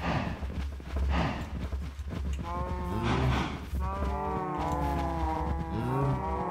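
Cows mooing in a Minecraft-style video game, several drawn-out moos overlapping one another over a steady rhythmic clopping, with game sounds filling the background.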